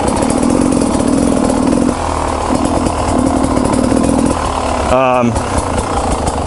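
An enduro motorcycle engine runs close and loud, holding a steady rough idle with a brief throttle blip around the fifth second; someone talks over the engine noise.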